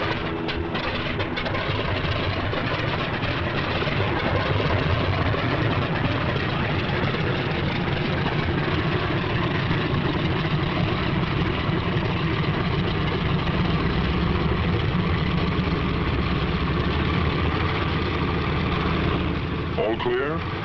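Propeller engines of World War II fighter aircraft run steadily before takeoff, a loud, continuous, dense roar that fills the whole stretch without letup.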